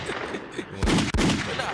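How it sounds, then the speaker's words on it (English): Gunshot sound effects: a few sharp, loud bangs fired in quick succession over a busy background. "can we get some gunshots on that?"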